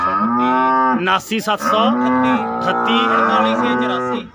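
A cow moos loudly and close by at a livestock market in Dhanaula, Barnala, one long drawn-out bellow with a short break in the middle and no voices over it.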